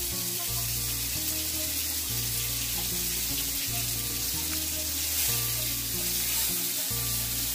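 Bay leaf and whole spices sizzle and fry in hot oil in a home kitchen, a steady dense crackle running throughout, alongside a low repeating hum.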